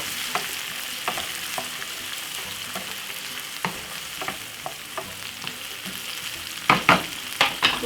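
Corned beef frying in a pan for a Jamaican dish, a steady close sizzle hissing throughout, broken by occasional scrapes and clinks of stirring, with a few sharper spatters and taps near the end.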